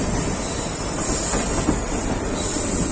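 An Intercity Express passenger train runs between Varanasi and Gorakhpur, a steady loud rumble with a rhythmic wheel clatter and a high hiss, heard from on board with no talking.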